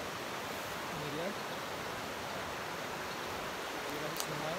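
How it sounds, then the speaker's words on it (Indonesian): River current flowing at Sungai Lungun in a village in North Sumatra, a steady, soft broadband rush that stays even throughout, with a few faint bird calls over the water. "aliran sungai."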